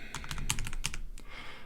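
Quick bursts of typing on a computer keyboard, a short run of close, crisp key clicks with irregular rhythm, then a pause with a few final taps; no talking.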